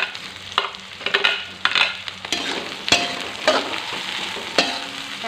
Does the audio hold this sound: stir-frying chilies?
yes